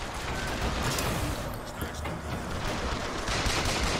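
Gunfire in the Bioshock Infinite shooter, loud dense shots and bursts layered over a noisy, chaotic combat backdrop with no pause.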